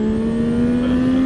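A 2024 Yamaha MT-09 motorcycle pulls hard in first gear, its engine drone rising smoothly in pitch as it accelerates, loud and close throughout.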